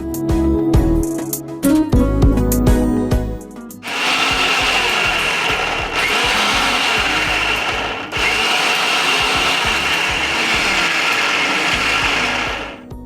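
A kitchen mixer grinder grinds spice powder, garlic cloves, coriander and turmeric for Telangana-style fish curry. Clattering and clicks lead into a loud, close, continuous whirring grind that runs in about three bursts separated by brief pauses, with no talk.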